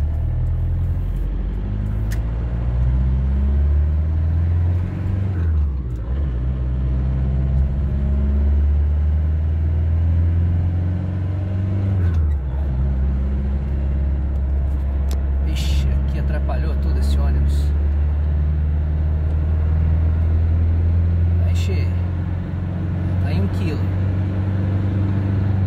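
A car cruising on a highway during a short test ride after a turbo pressure gauge install, with loud steady engine rumble and road noise that rise and fall with gear changes, close inside the cabin, with a voice speaking at times.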